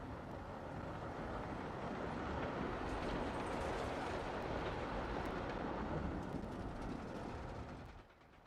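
A runaway mine train coaster ride in the video game Planet Coaster gives a sustained rumbling roar of wheels on track, loud and continuous before it drops away abruptly near the end.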